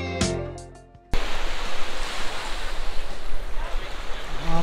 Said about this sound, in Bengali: প্রচণ্ড বাতাস থাকার কারণে সমুদ্র ঢেউয়ের গর্জন দেখা যাচ্ছে বা শোনা যাচ্ছে।